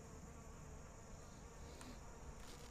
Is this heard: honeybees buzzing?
yes